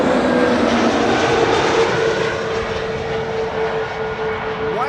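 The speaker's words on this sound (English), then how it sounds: "White tip nosed, nose-tipped A321neo KLM flight 1032 arriving from Chester." A KLM Airbus A321neo airliner arriving at Amsterdam Schiphol Airport gives a loud, steady jet roar with a whining engine tone, holding close and constant throughout.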